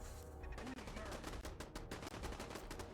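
Gunfire in the video game Fallout 4: rapid, dense bursts of automatic shots that fill the moment, loud and continuous, with no clear talk.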